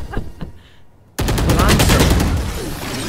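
Valorant gunfire starts with a few sparse, distant shots, then breaks into a loud, sustained burst of rapid automatic fire that carries to the end.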